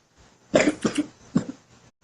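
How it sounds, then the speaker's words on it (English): A person coughs three times at close range, two quick harsh bursts followed by a single cough after a short pause, in an otherwise quiet room. "You're coughing."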